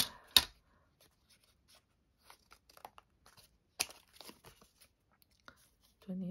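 Paper is trimmed for a junk journal, with soft scattered snips, rustles and crinkles, including a couple of sharper cuts near the start, quiet and close in an otherwise hushed room.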